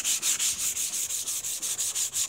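Wet sanding a car hood by hand with 400 grit waterproof sandpaper, a steady hissing rub in quick back-and-forth strokes, about a dozen even passes, close and alone with no talk.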